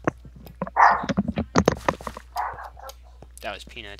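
Peanut the dog barks in a handful of short, sharp bursts spread across a few seconds, close by and mixed in with people talking.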